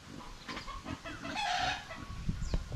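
Chickens cluck softly in short bursts, with scattered rustling and faint farmyard background, fairly quiet and nearby.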